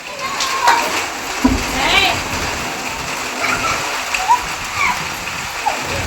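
Heavy rain pours steadily onto a metal sheet roof, a dense, continuous hiss with splashes, while voices call out now and then over the downpour.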